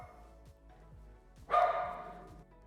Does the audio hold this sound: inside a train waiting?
no